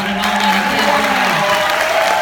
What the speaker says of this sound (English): One more round of applause for one and